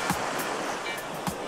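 Sea waves wash onto the shore in Penang, a continuous broadband rushing surf with a few brief swells, no voices present.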